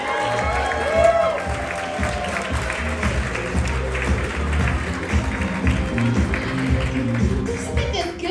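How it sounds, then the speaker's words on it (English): A comedy club crowd at the Reno Laugh Factory applauds for stand-up comedian Rebekah Kochan, with steady, dense clapping and scattered cheers throughout while a host speaks over it. "Everybody put your hands together for Miss Rebekah Kochan."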